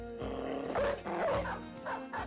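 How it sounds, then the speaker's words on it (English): Dogs in the video game Battle Brothers barking in a quick series of sharp, close yips and bow-wows over a brief stretch, with a faint musical background. "he'll unleash his own dog as well"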